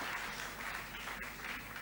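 Steady applause from an audience fills the room after a piano masterclass on Beethoven's Sonata Op. 109, a dense even wash of clapping with no voices.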